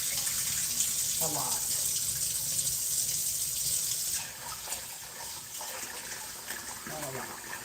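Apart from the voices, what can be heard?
tap water running while rinsing rice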